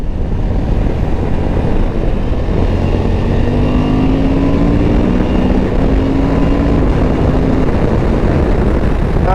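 A Suzuki V-Strom 1050 DE motorcycle being ridden on open roads, its steady engine drone loud and constant with heavy wind rush throughout, the pitch rising gradually partway through under acceleration, no voices.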